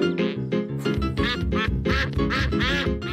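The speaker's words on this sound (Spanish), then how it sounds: "¡Pato! ¡Pato! ¡Para, Pato!" A cartoon duck in the animated series Pocoyo quacks in a rapid, insistent run of loud, nasal calls, repeated several times in quick succession over a bright musical backing.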